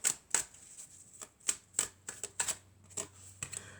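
Oracle cards being handled and shuffled, a series of soft, crisp flicks and taps in irregular bursts, close and fairly quiet.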